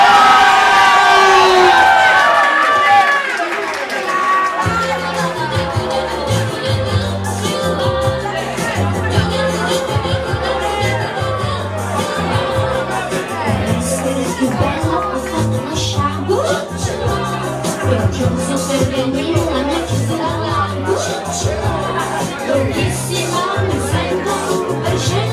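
Crowd cheering and clapping at a queer party. Whoops and babble swell at first, then a pulsing dance beat takes over underneath the steady crowd noise.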